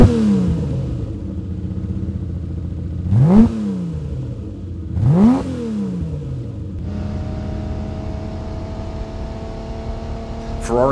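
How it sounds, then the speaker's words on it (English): Engine of a 1961 Ferrari 250 Series II Cabriolet: a steady idle broken by two sharp throttle blips that rise and fall quickly, then a higher sustained rev held near the end, loud and close. "There's nothing like the sound of a Ferrari 250 motor."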